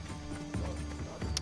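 Horse hooves clopping in Assassin's Creed Odyssey, a few soft, irregular hoof thuds at mid distance over a steady game ambience.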